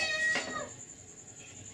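A human voice imitates a cat's meow, one drawn-out mewing cry followed by quiet, with a faint tonal hum lingering behind.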